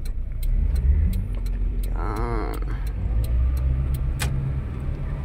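A car drives along a highway in Cyprus, its steady road and engine rumble filling the recording from start to finish, with a brief rising whine passing partway through and faint ticking clicks scattered throughout.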